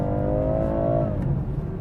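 A BMW 430i Cabrio with a 260 hp engine accelerating hard, its engine note rising steadily in pitch and loudness, then easing off toward the end.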